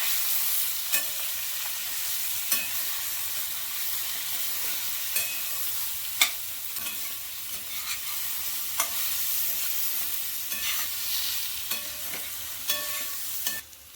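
Brinjal stir-fries in a pan over low gas, giving a soft continuous sizzle broken by regular clinks and scrapes of a spoon stirring against the pan, close and alone.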